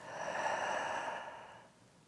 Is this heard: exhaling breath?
yes